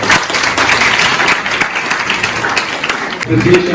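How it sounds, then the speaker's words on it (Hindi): Loud, sustained applause from an audience fills the whole stretch, dense and even, with a voice briefly rising near the end. "तालियां जोर से बजा सकते हैं।"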